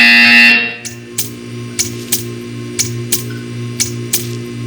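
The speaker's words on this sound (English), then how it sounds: "You will hear a buzzer." A harsh electronic buzzer in the video game Portal 2 blares for about a second, then stops, leaving a steady low hum with faint regular clicking ticks.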